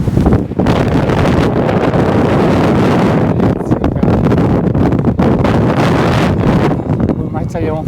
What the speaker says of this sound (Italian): Mamma mia, non pensavo a un vento così oggi.